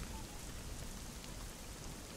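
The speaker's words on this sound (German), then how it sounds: "Warum regnet es denn jetzt?" Steady rain falling in the video game Little Inferno, a constant dense hiss with low rumbling texture and no distinct drops or thunder, running evenly throughout with no talk.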